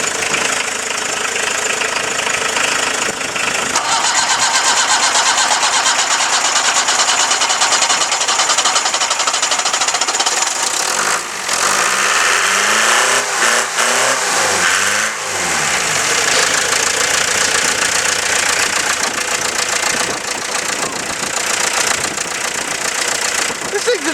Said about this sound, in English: we better get this thing out quick and over to Ruin's car for jumping.